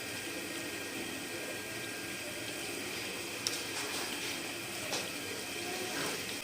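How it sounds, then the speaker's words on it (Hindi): Bread slices frying in hot ghee over a medium flame, a steady close sizzle and crackle running throughout with a few faint clicks, no talking. "मीडियम फ्लेम पे हम इसको फ्राई करेंगे"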